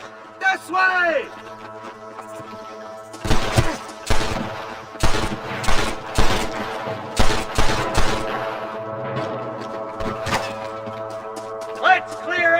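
Rapid bursts of gunfire from a Red Dead Redemption shootout at Pike Place crack out in a ragged volley, with shouted voices and a music bed underneath.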